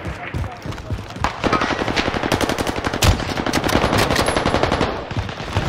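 Rapid automatic gunfire from an Owen Gun in Warzone Rebirth Island, a loud close sustained burst of fast rhythmic shots lasting several seconds with a sharp crack midway.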